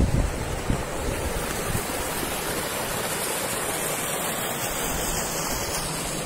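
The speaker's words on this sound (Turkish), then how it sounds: "ormandan gelen su şu delhizden geliyor. Ve şuradan havuza atıyor" Spring water from the forest pouring into a pool at Kirazlıbent, a steady broadband rushing wash of flowing, splashing water heard alone and fairly close throughout.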